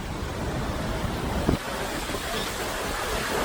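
Murchison Falls on the Victoria Nile in Uganda roars from the top of the falls, a steady loud broadband rush of powerful falling water with wind buffeting the microphone and one brief thump.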